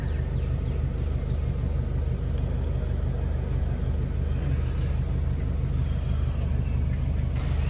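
A parked truck, a Tata BS6 tourist vehicle, idles with its engine running, giving a steady, loud low diesel rumble throughout with a faint hiss above it.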